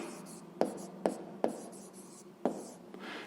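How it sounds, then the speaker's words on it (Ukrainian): Pen or pencil writing by hand on paper while working a sixth-grade maths exercise, close and quiet, with a steady scratching stroke and four sharp taps as the writing moves along. "Отже, записуємо, якщо. Пишемо, якщо."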